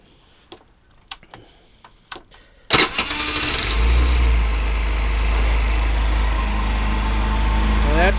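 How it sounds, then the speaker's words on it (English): GY6 scooter engine, uncovered with plastics off, after sitting all day: a few clicking ticks, then a sudden cold start that settles into a loud, steady close idle with a deep low rumble. "I'll do a cold start here"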